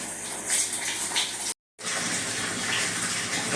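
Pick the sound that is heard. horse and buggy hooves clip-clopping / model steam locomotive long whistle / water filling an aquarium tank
water filling an aquarium tank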